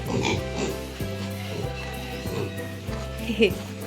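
Pigs oink and grunt close by in short repeated bursts, with a person's voice mixed in among the animal sounds.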